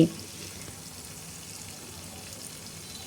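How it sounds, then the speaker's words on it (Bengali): Running tap water pouring over a peeled bottle gourd being washed by hand, a steady close splashing rush that holds evenly throughout. "এখন এই লাউটাকে আমি পরিষ্কার করে ধুয়ে নিচ্ছি"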